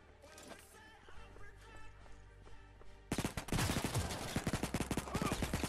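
Automatic gunfire in the mobile shooter Modern Strike Online: a quieter stretch of game sounds gives way halfway through to sustained rapid bursts of shots that fill the rest of the clip.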